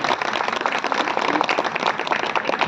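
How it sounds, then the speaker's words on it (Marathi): An audience applauding performers after a dance program, a dense, even burst of many hands clapping close by throughout, with no voices over it. "एकदा जोरदार टाळ्या आपण या सगळ्यांसाठी वाजवूया."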